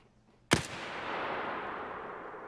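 A single loud gunshot from Escape from Tarkov cracks sharply and rolls into a long, reverberant tail, with no voices.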